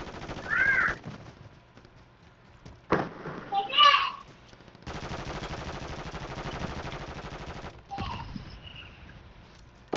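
Sniper gunfire in a Plunder match of Warzone 3: a few sharp, separated shots and short bursts ring out at moderate distance, with voices faintly present between them.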